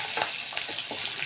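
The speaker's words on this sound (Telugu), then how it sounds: "ఈ పోపు వేగిపోతుందండి" Green chilies, dried red chilies and curry leaves frying in hot oil as a tempering for a banana flower curry, a soft steady sizzle with faint crackles and stirring, heard alone without talk.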